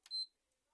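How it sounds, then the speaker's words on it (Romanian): A PS5 console gives a single short, bright beep, followed by near silence. "țineți butonul 7 secunde cât să vă audiți un bip"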